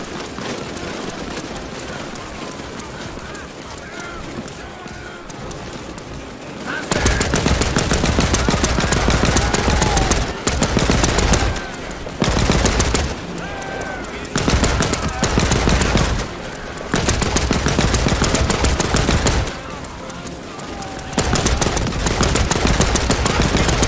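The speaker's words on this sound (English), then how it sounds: "Get on that machine gun!" Machine gun fire in an old-school WW2 first-person shooter, loud rapid bursts several seconds long alternating with brief quieter gaps, the rattling volleys repeating again and again.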